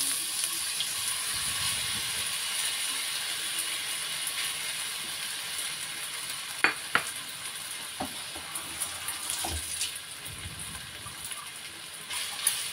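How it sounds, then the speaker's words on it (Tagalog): Food sautéing in a hot pan over low heat at lunchtime, a steady soft sizzle running throughout, with a few sharp clinks and utensil scrapes near the middle. "Dahil mainit na siya, so magkisa na tayo."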